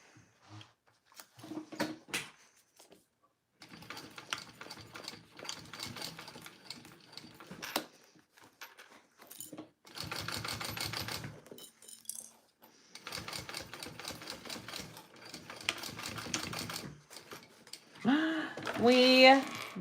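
A home sewing machine stitches a zipper bag starting from the thinner bottom edge, running in several bursts of fast rhythmic whirring separated by short pauses, with a voice speaking near the end.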